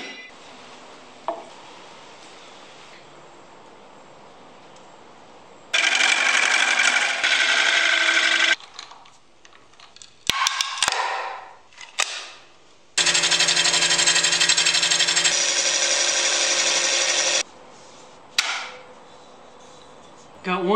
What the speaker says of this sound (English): I'm just gonna cut a few 2x4s to use